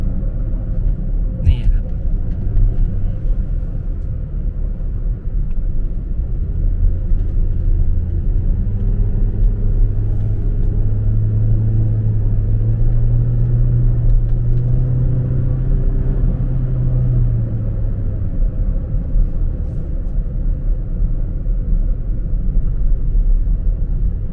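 A car climbs a paved mountain road on route 2258 up toward Khao Kho, with a steady low engine rumble and road noise throughout, the pitch rising and falling gently on the curves, while someone talks over it.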